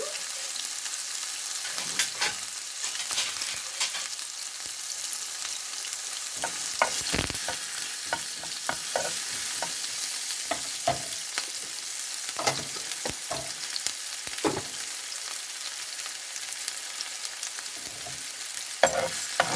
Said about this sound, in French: dans cette huile, je vais mettre une demi-cuillère de cumin en grains. Et dès que ça rissole, je vais mettre les oignons.